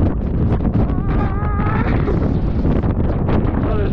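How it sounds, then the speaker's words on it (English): Strong wind buffets the microphone outdoors in a steady, loud roar with gusty rustling, while faint tonal sounds weave through the middle. "That is super windy."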